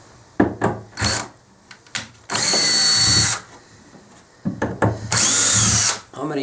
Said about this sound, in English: I'm going to use a power driver.